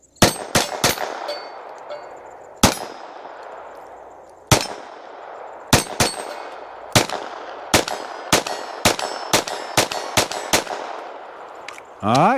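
An FN 502 Tactical pistol fires about fifteen sharp, close shots in an irregular rhythm at close steel targets, each shot followed by a bright metallic ring. A short burst of voice comes at the end.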